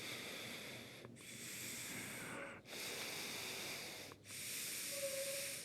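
Deep, slow breaths are taken while someone holds a yoga inversion, each long airy breath close and soft, broken by three short pauses with no talk.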